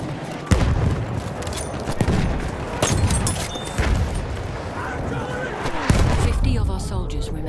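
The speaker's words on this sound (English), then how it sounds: "Tossing a grenade!" A grenade blast and bursts of gunfire in Battlefield 1 on PS4: several loud booms and sharp shots ring out over a constant battlefield rumble and shouting.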